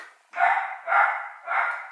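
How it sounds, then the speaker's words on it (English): A small dog barks three times in a clear, evenly spaced series, each bark short and fairly loud against a quiet indoor background. "That's my little dog you can hear."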